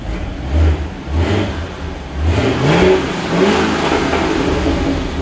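BMW E92 M3 with its V8 engine revving nearby, a deep throbbing idle rising into a couple of throttle blips with pitch climbing and falling, loud and steady with no voices.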